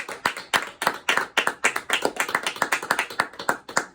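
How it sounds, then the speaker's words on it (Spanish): Congregation applauding the Lord during a Spanish-language church service, a brisk run of close, uneven hand claps with sharp individual slaps, fairly loud and continuous without speech. "Un aplauso al Señor, hermano."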